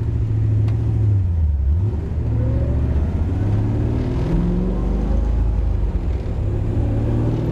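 Close by, an engine warms up at low RPM, holding a steady mid-pitched rumble with a few gentle rises and falls in revs, and no voices over it.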